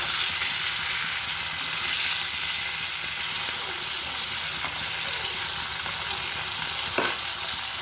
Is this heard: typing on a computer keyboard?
no